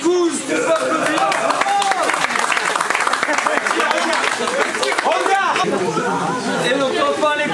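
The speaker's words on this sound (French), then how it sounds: "on a Épouse, on peut applaudir." A crowd applauds the podium winners of a wet-weather karting race, with steady clapping mixed with loud chatter and voices of people talking nearby throughout.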